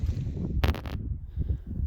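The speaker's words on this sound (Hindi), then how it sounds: "काफ़ी तेज़ हवा चल रही है" Strong wind buffets the microphone outdoors on a high mountain trek near Karambar Lake (14,100 ft) in the Ishkoman Valley, a steady low rumble with brief louder gusts around the middle of the short stretch.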